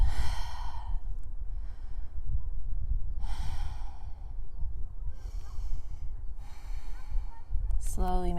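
Deep, slow breaths during a warm vinyasa yoga flow, close and audible: four long exhalations spaced a couple of seconds apart over a soft background hiss.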